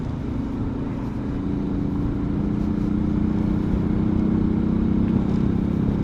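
An XRM motorcycle engine drones steadily on a road trip from Gensan to Surigao, a continuous low hum that rises slightly in loudness, with no talk.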